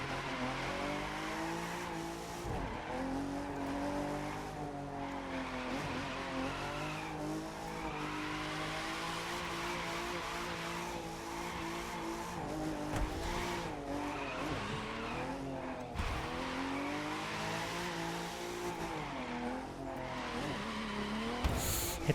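Race car drifting in The Crew 2 Live Summit street event, engine droning continuously at high revs with repeated tire squeals through the corners, loud and sustained for the whole stretch, no voices.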